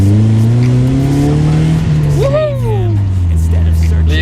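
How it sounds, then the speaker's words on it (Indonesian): Car engine revving as it accelerates, a loud deep drone rising and falling in pitch over a few seconds, with someone talking over it. "Nanti kita coba tarik sedikit ya, karena ini masih di dalam rumahan."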